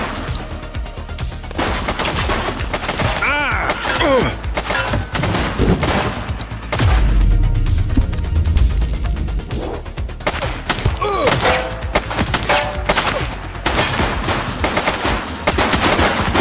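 Rapid automatic gunfire and repeated shots fill a police shootout in the video game GTA, with dense, loud bursts sustained throughout and occasional heavy thuds.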